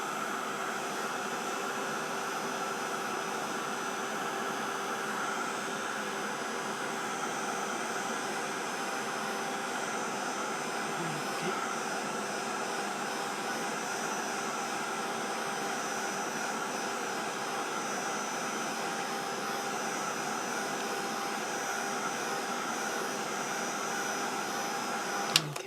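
A heat dryer drying mixed media art tags, a steady, unbroken whooshing blow that holds at a constant level from start to finish without talking.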